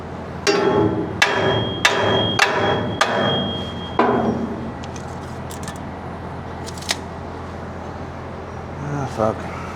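Hammer blows on a gooseneck trailer being upgraded, six sharp ringing metallic strikes in a quick, even rhythm, then quieter scattered clanks, loud and close.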